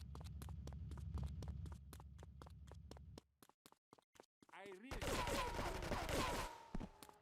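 Sniper rifle fire in GTA 3, a quick series of sharp, regularly spaced cracks over a low hum, a short gap of scattered hits, then a loud burst of dense, roaring noise toward the end.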